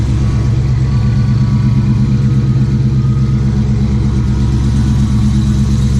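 A Whipple-supercharged car engine with a cam, long tube headers and stock mufflers, idling loud and close with a deep, even, lumpy rumble for several seconds, no voices.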